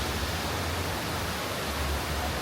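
A waterfall near an old hydroelectric plant in Sapa, built by the French in 1925, gives off a dense, continuous rushing roar. It is steady and fairly loud throughout, with no voices.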